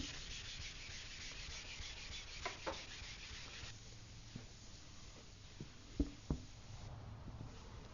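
A scuff pad rubs across a car surface in repeated strokes, a quiet, dry scratching with a few sharper taps.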